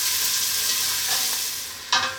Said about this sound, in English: Let's get these onions in the pan and get them sweating down.